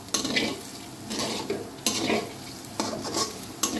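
Dal frying in a pan and being stirred with a utensil: a steady close sizzle broken by repeated scraping stir strokes roughly every second, with no talk.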